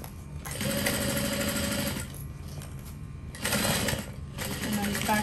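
A sewing machine backstitches a seam on a lined shoulder bag, running in two loud bursts of rapid mechanical whirring with a quieter pause between them and a short run near the end.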